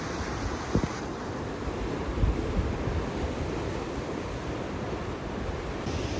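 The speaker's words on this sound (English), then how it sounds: "The water's very rough down here at the moment." Rough sea surf breaking and washing against a rocky shore by a rock pool at Malabar, Sydney, a steady broadband roar with a couple of louder surges and wind buffeting the microphone, with no voices.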